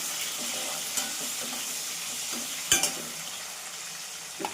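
Peeled, already boiled taro pieces frying in a pan, giving a steady close sizzle with occasional stirring clinks and scrapes of a utensil against the pan.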